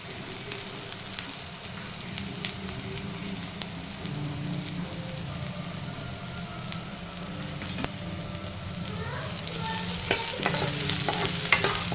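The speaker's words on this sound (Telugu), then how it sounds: "సన్నగా తరిగేసుకున్న మిరపకాయలు, అండ్ ఒక ఉల్లిపాయ, అండ్ కరివేపాకు వేసి మంచిగా వేపుకుందాం." Finely chopped green chillies, onion and curry leaves fry in a pan for a simple Manchurian, giving a continuous close sizzle with busy stirring scrapes that grow louder near the end.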